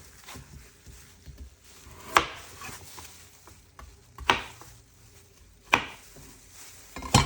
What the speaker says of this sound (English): So now I'm just gonna go in and cut off the top